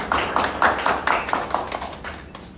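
Brief, sparse clapping at a Liberian press conference, a handful of distinct claps in a loose rhythm from a small group that thins out and fades within a few seconds.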